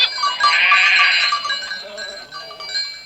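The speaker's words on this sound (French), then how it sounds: "Si je ne fais pas erreur, voilà Pie, ta chèvre" A goat gives a loud, wavering bleat up close, followed by fainter, shorter bleats trailing off, with no talking over it.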